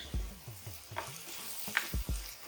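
Tomatoes are stirred into a sizzling ground turkey taco skillet. Quiet, even frying sits under repeated low scraping strokes of a utensil across the pan. No one talks.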